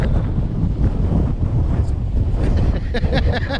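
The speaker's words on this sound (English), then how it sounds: "It's a bit blustery, isn't it?" Strong, gusty wind buffets the microphone on a blustery stretch of the Anglesey coast in Wales, a loud continuous roar with rumbling bursts, and surf may sound faintly underneath.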